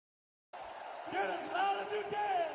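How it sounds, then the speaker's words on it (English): A hockey arena crowd fills the building before an NHL Stanley Cup playoff game between the Toronto Maple Leafs and Ottawa Senators, a steady loud roar of cheering and voices with swells and whistles, close and continuous. "The crowd is loud. They're ready to rock."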